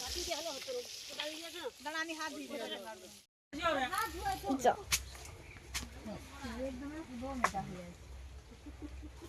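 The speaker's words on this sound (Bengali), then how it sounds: "মাছ ভাজা শুরু হয়ে গেছে মাছ এখন ভাজা হচ্ছে" Oil sizzles steadily as pond fish fries, a crackling hiss running under nearby conversation with a brief pause partway through.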